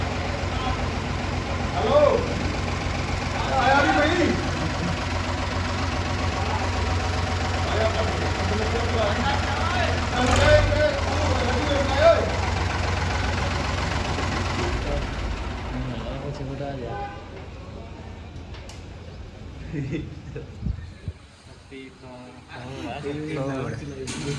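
A Ford tractor engine idles steadily at an outdoor pigeon-flying contest, a low continuous rumble under people talking, fading and thinning toward the end.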